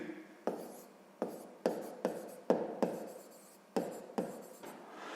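A pen writes numbers on paper, giving a series of quiet, close scratchy strokes with a sharp tap at the start of each, spaced unevenly.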